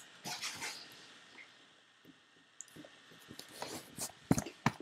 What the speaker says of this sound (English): He's a wiener dog.